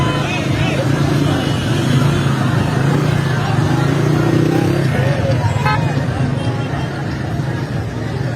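Motorcycles idle and rev in road traffic stopped dead by a blockade, a steady engine drone thick with crowd chatter and nearby voices talking over it.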